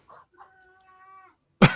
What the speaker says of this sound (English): That's the cat, by the way.